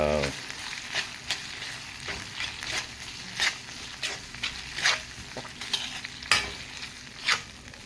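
Corned beef and potatoes fry in a pan while a utensil stirs and scrapes in irregular bursts, sharp clatters over a soft continuous sizzle, fairly close with no talk.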